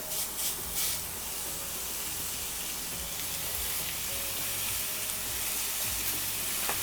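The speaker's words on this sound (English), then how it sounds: "I would like to get a good quality sear on these burgers when they go down" Burgers for a peanut-butter-and-jelly burger sear in a hot skillet with a steady, close frying sizzle and hiss that runs for the whole stretch, with a few small pops and crackles.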